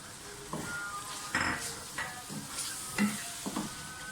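Minced meat (keema) with ground spices frying in a pan for keema aloo, with a soft steady sizzle and several distinct stirring scrapes and clanks at irregular intervals.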